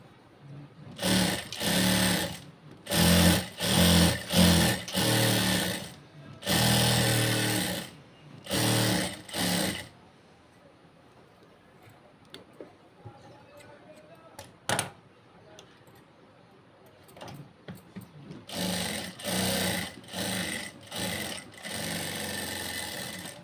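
A sewing machine stitches a blouse in several short bursts, close and loud, with a quiet gap of light handling in the middle before more runs of stitching.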